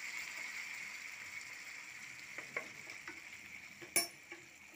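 A spoon stirs fish kofta curry topped with coriander leaves in a pan, making faint, sparse scrapes and clicks, with one sharper knock near the end.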